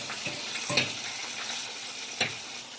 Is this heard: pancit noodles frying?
yes